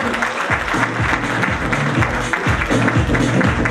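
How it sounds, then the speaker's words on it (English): Loud, close applause at a social foundation awards night, a dense continuous roar of clapping with a rhythmic low thumping pulse beneath it, sustained for the full few seconds. "Huge round of applause for Mr. Prince Vaidyan"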